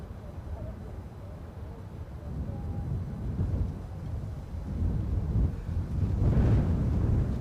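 Wind gusts over a microphone at Edinburgh airport, a rough low roar that swells louder toward the end.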